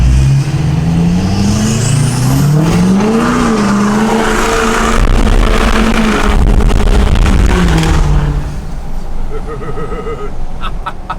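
A loud L5P Duramax diesel pickup truck engine revs hard in a burnout with traction control off, tires squealing and skidding continuously, the roar rising and falling before easing off near the end.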